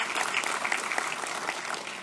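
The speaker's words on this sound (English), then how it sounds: "how about a round of applause for" An audience at a high school scholarship night applauds, a brief, steady burst of clapping from many hands in a room, with no talk over it.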